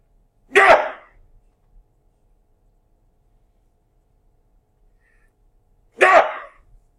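Two sharp sneezes, loud and close, separated by several seconds of near silence.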